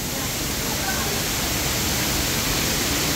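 A waterfall in Hong Kong Park pours in a steady, close, full-band rush of water that holds at one even level throughout, with no break or change.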